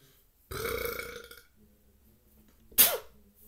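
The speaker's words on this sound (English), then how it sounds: "See, my burps, like," A long, loud, croaking burp rumbles for about a second, followed after a pause by a short sharp second burp, both close and otherwise quiet.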